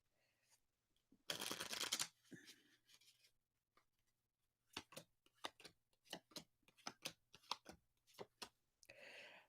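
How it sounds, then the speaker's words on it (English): A quiet room where a deck of cards is riffle-shuffled in one loud burst, followed by lighter taps, squaring and bridging clicks of the cards in an irregular run, close by with no talking. "Just have one more deck to shuffle."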